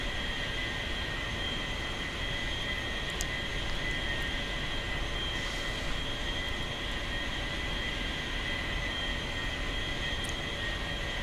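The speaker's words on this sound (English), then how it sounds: "Now we're going to back taxi on the runway to get down to where we can turn around and go ahead and start our takeoff roll." An A-4E Skyhawk jet in DCS back-taxis along a runway, giving off a steady, even engine whine and hiss that holds at a constant level throughout, with faint higher tones riding on top and no voices.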